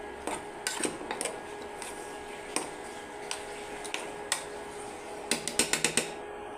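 A spoon stirs cooked chicken pulao in a metal pot, giving faint scattered scrapes and clinks with a quicker cluster of taps near the end, quiet and close.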